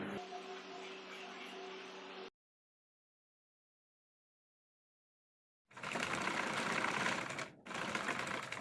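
A sewing machine stitches the side pieces of a princess-cut blouse, running in a dense mechanical burst, falling silent for a few seconds, then running again with a short break near the end.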